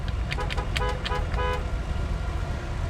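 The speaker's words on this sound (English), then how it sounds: "So let's first do the horn." A 1970 Chevrolet Chevelle SS car horn sounds in a quick series of four or five short, loud honks over a steady low background hum, then falls quiet.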